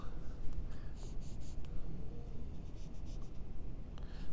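Writing on a board being erased in a steady scrubbing rub, close and continuous with faint brief squeaks, no talking over it.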